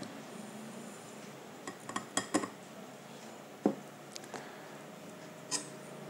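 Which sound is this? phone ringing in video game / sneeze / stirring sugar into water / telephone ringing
stirring sugar into water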